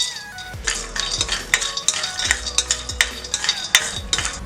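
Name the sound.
sprouted grains dry-roasting in an iron pan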